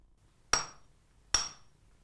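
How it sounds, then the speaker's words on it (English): Two sharp metallic hammer blows ring out about 0.8 seconds apart, each with a bright clanging decay, as a Japanese swordsmith beats a plain iron rod down to a point at a charcoal-fired forge. "First, he hammers a plain iron rod down to a sharp point."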